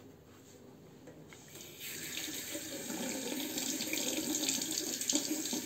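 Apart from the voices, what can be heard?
water tap running while rinsing a safety razor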